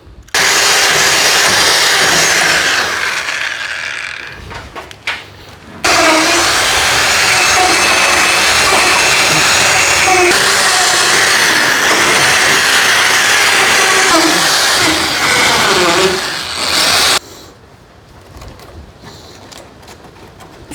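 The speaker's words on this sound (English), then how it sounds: "So I'm going to drill the holes through and put the ropes through." A power drill whirs loudly in two sustained bursts, a short run then a longer steady grind, with a brief pause between and quiet at the end.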